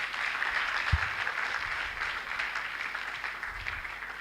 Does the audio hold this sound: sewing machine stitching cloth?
no